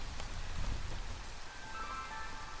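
Steady rain falls in the video game Against the Storm as an even, hissing patter on surfaces that stays constant throughout, with no one speaking.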